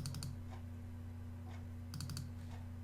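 Soft keyboard keystrokes come in two brief bursts of a few quick clicks each, with a pause between, over a steady electrical hum while someone names a file on a computer.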